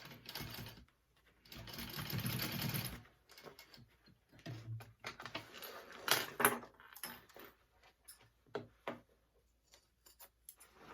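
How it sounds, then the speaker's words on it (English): Sewing machine stitching vinyl to close a mini backpack, running in several short bursts with pauses and small mechanical clicks and handling noises between them, close and moderately loud. "so I just sewed that closed"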